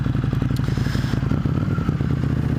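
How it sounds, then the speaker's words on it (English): A motorcycle passes nearby, its engine a steady low rumble with clattering, scraping mechanical texture running throughout. "I like that guy's bike a lot."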